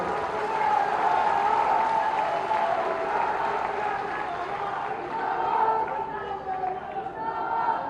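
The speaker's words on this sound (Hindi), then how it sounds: "तालियां बजा के" A crowd at a political rally applauds continuously, clapping mixed with cheering and a murmur of voices, loud and sustained throughout.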